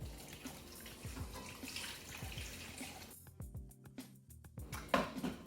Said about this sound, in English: Cover with water about 2 inches above the bones